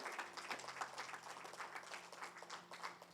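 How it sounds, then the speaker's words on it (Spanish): A church congregation applauds during a Spanish-language sermon, a dense, steady round of clapping from many hands at moderate distance, with a low sustained organ-like tone underneath. "¿Por qué no le da una ofrenda de palmas al Señor?"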